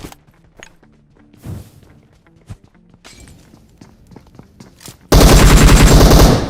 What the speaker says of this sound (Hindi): सामने की तरफ से हमको एक फायर आता है